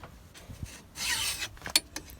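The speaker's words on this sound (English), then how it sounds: "it's this top lip here that I'm filing, which fuses to the disc" A hand file rasps rust off the lip of a Nissan Micra K11 front brake disc in a few short, scratchy strokes, close up and uneven, with a small metallic tick near the end.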